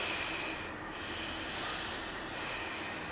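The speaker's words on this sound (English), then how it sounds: "close your left nostril, close it from your finger, close it and check how do you breathe" Steady, close breathing through a single nostril with the other held shut, two slow airy breaths that rise and fade, with no talking.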